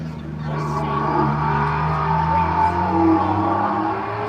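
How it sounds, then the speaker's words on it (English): Modified Ford Escort race car engine at a sprint event during a motoring festival, loud and close with a sustained rasping drone and shifting revs, heard alongside a commentator's voice. "firing up the engines and shooting up the sprint here this afternoon"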